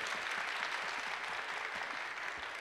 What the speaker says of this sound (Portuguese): Uma salva de palmas, pessoal